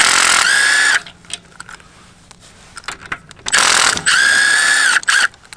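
Ratchet wrench backing out the brake master cylinder bolts on a 2020 Harley-Davidson Road Glide Special, with two loud bursts of rapid clicking separated by quieter handling noises, close up with no talking.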